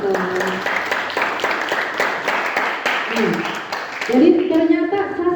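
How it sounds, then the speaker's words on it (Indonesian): Audience applause for a teacher at a literature seminar at an Islamic boarding school, a dense, steady clatter of many hands under talk, with voices and a brief sung or tonal sound rising near the end. "Tepuk tangan buat ustadz kita."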